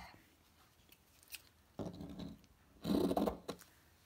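Scissors snip through embellishment craft material in a few close, crisp cuts, the loudest one near the end, with faint handling noises in between.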